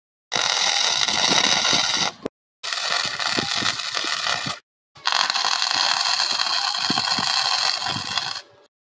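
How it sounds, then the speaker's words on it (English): A welder tack welds hydraulic brake parts onto a Coleman CT200U-EX trike in three loud, close bursts of harsh crackling buzz, the last one longest, each separated by a short silence. "So let me get the welder out over here"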